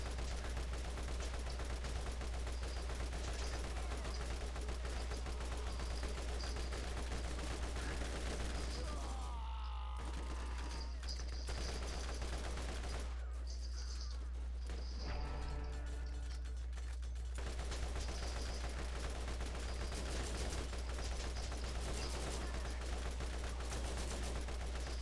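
Steady, dense gunfire from enemy turrets in the video game Borderlands, a continuous rattle of shots that runs through most of the stretch and breaks off in two short gaps near the middle.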